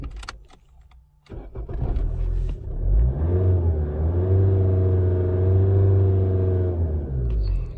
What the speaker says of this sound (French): du coup j'essaie de démarrer. Elle démarre au quart de tour.